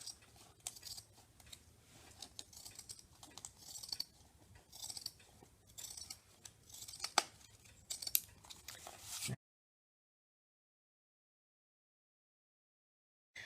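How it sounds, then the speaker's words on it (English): Scissors cut through two folded layers of fabric for dress pockets, giving a steady series of soft crunching snips and rustles for about nine seconds, close by and then silence. "We're going to be cutting 2 pockets at the same time."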